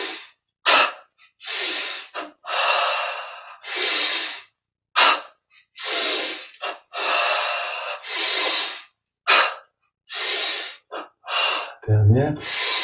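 Repeated breaths drawn in and let out during a guided yoga and meditation breathing exercise, about a dozen broad airy inhalations and exhalations in steady rhythm, close and clear, with a brief low thump near the end.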